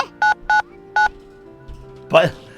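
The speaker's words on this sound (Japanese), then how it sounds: "そんなのユージに電話すりゃいいのよ。 はい、ピッポパってね。" Three short, evenly spaced telephone keypad beeps from a phone being dialed in an anime scene, clean and close, followed by a brief spoken line.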